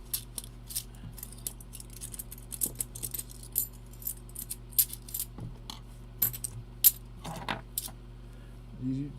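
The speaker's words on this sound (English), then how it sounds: "Coin spillage." Half dollar coins spill and clink together in a quiet room, with scattered bright metallic jingles and taps coming in small bursts over a low steady hum.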